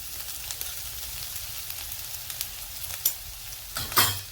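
Green chili paste with turmeric sizzles steadily in a pan, a soft continuous fry broken by a few faint clicks and a louder stir or scrape near the end.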